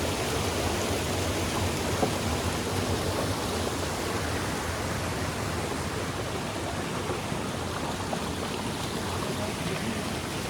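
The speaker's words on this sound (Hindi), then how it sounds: "दोस्तों पानी का आवाज़ ज़्यादा है यहाँ पे" Loud rushing water at Arlong Kundo, a picnic spot beside a temple, roars as a steady broadband torrent that holds constant and fills the whole scene without pause.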